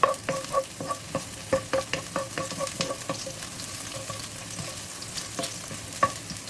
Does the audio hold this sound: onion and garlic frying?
yes